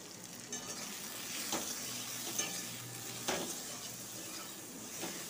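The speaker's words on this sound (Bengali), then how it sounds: "1 চামচ কাশ্মীরি লঙ্কা গুঁড়ো, দিয়ে ভালো করে কষিয়ে নিলাম।" Potatoes and pointed gourd stir-fry in a pan with tomatoes, turmeric and Kashmiri chili powder, giving a soft steady sizzle broken by a few spatula scrapes.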